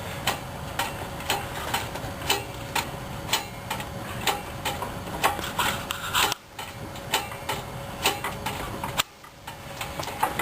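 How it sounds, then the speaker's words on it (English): Engine hoist (cherry picker) slowly raising the motor out of a 1970 Chevelle, giving a steady run of sharp, evenly spaced mechanical clicks about twice a second, close and clear, with two brief silent gaps. "here, we slowly lift the motor up"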